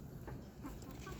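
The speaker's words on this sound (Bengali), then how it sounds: "দেশি মুরগি অনেক চঞ্চল, সুযোগ পাইলেই দূর।" Desi (native village) chickens cluck in a brief, quiet burst of short calls against a soft background.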